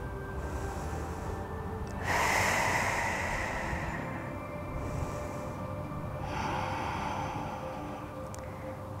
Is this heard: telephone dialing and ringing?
no